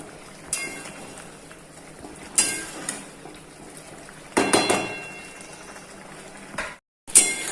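Sweet vermicelli cooks in a pot as its water boils away, giving soft bubbling and occasional louder sputtering bursts and stirring scrapes close by, with no talking.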